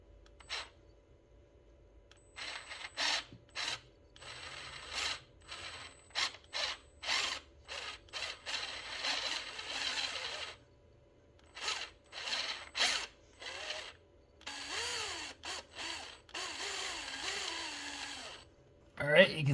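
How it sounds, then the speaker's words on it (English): Bursts of a power drill whirring in short repeated runs into aluminum on a BMW M54 engine cam tray, with pauses and some handling noise between, close up. "It's aluminum, so it should cut easy with the drill bit."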